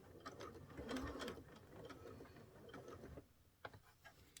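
A sewing machine stitches quilt binding in a quiet, rapid mechanical whir, running steadily for about three seconds before stopping, followed by a few faint clicks.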